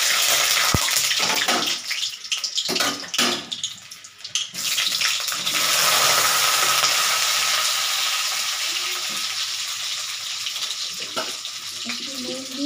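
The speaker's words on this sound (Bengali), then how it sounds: "ততক্ষণ আমি আলুগুলো ভাজতে থাকি" Diced potatoes fry in a pan, loud continuous sizzling and crackling, close up, with a few clatters and stirring noises near the start before the hiss settles into a steady spatter.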